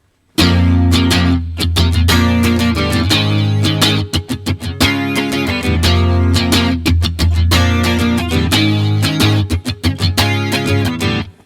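Clean electric guitar playing the intro, loud and close, with a steady chugging rhythm of repeated chords and muted strokes that runs continuously.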